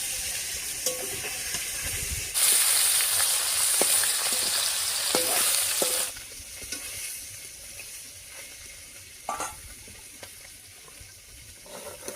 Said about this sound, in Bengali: মাছগুলো ভাজা হয়ে গেছে, নামিয়ে নিচ্ছি।